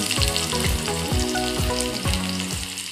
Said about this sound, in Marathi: फोडणीसाठी पहिले कांदा घालून घेऊया